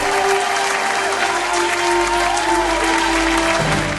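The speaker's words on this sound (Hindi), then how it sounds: "जोरदार तालियां हो जाए लिनेट की इस ब्यूटीफुल परफॉर्मेंस के लिए" Sustained, dense applause from a studio audience at a gospel singing reality show, clapping loudly and evenly for a singer after her performance, with no voices over it.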